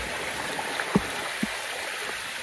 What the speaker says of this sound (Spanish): Vea cómo sigue esa agua, vea, para allá. Como baja esa agua, vea, por ahí.